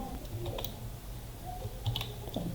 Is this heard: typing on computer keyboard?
yes